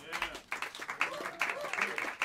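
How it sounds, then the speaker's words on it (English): A crowd at Smalls Jazz Club in New York City applauds the bassist of a jazz quartet, with scattered, fairly quiet clapping under someone speaking over it. "Give a warm round of applause for great Peter Washington on the upright bass."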